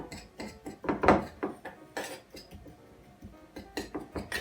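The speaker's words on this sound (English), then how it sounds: "get a spoon, give that a bit of a mix, just break up all the sugar" A spoon stirs and breaks up sugar in a bowl for a pecan and cinnamon traybake, giving quiet scraping with a few sharp clinks against the bowl, close and soft with short pauses.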